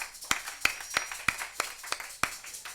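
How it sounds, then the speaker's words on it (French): A few people clap slowly in a church congregation in Kinshasa, sharp separate claps landing about every third of a second with no talk over them. "Applaudissons pour le Seigneur."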